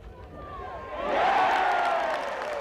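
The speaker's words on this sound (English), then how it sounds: "the crowd shows its appreciation" Golf crowd at the 1993 Ryder Cup in Europe cheering and applauding after Seve Ballesteros's birdie try, a broad wash of clapping and voices that swells after the first second and stays loud to the end.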